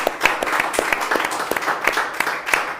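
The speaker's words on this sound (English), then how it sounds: "he deserves a massive round of applause" Steady applause from a crowd at the Boston Marathon, dense overlapping clapping with no pauses, fairly loud and close.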